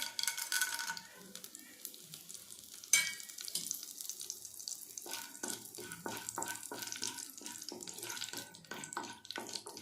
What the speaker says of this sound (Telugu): నూనె వేడయ్యాక తాలింపు గింజలు ఇందులో వేయాలి